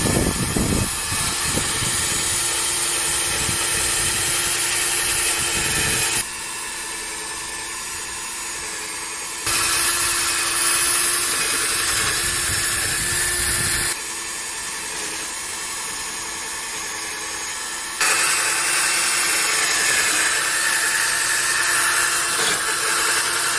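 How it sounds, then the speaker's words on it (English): A power tool polishing an 18-year-old car headlight runs loud and steady, with a broadband whirring hiss that drops in level briefly several times as pressure changes, no talking. "Then we start polish the headlight."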